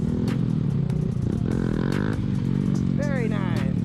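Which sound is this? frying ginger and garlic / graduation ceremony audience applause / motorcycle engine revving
motorcycle engine revving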